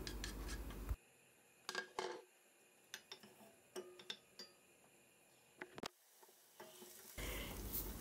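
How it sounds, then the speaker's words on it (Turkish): Dry onions sizzle loudly in hot oil for lentil soup, the hiss dropping away mid-clip to quiet clinks and taps of a utensil before the sizzling surges back. "Üzerine ince doğradığımız kuru soğanları ekleyerek kokusu çıkana kadar kavuralım"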